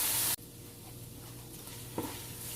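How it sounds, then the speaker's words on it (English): Mushrooms sizzle steadily in a pan for a vegan plant-based lasagna, a soft continuous frying hiss after a brief louder burst at the start, with a small clatter near the end. "so I'm gonna sizzle the mushroom"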